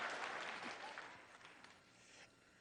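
Audience applause at the National Tea Party Convention during Sarah Palin's keynote speech, a dense steady clapping from many hands that holds fairly loud, then thins and fades slightly toward the end.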